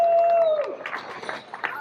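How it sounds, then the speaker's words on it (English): Audience applause at the start of Chicago's Bike The Drive, a 30-mile group cycling event, breaking out after a voice over a microphone: scattered, moderately loud clapping from an outdoor crowd over a soft hubbub. "Give yourself a round of applause for being out early."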